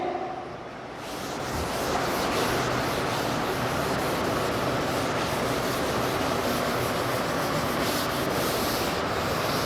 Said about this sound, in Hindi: चलिए रब किया जाए इसको